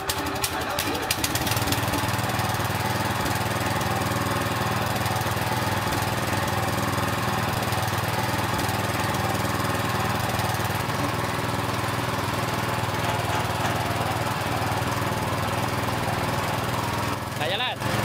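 A repaired tiller machine engine runs steadily and loudly, with a rough, knocking putter that stays constant from start to end. Voices can be heard talking underneath it.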